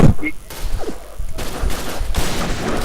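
Gunfire in the shooter game Point Blank, rapid bursts of shots crackling under excited talk, loud and close with brief gaps.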